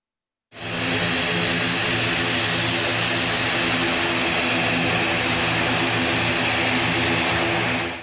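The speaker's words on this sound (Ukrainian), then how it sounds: "у Рівненському аеропорті сідає літак з делегацією чехів" A passenger plane carrying a delegation lands at Rivne airport in Ukraine, its engine roar swelling in after a brief silence and holding loud and steady, with no voices present.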